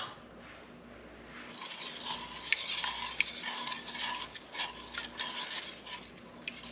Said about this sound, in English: And stir that until it's fully incorporated